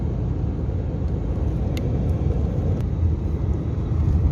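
A car drives along a rural mountain road in Saraburi, Thailand, heard from inside as a steady, loud engine and road rumble with a few faint clicks and no talking.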